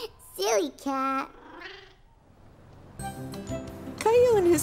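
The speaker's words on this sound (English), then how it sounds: "Silly cat." A cartoon cat gives a pair of high, wavering meows and a low rumbling purr, with a sliding cry near the end, set among other cartoon sound effects and brief speech.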